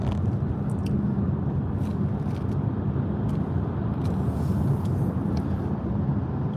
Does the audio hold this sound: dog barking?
no